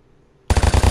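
Gunfire in the online shooter Vigor, a rapid burst of about five loud, close shots in quick rhythm after a short near-silent pause, with no talking over it.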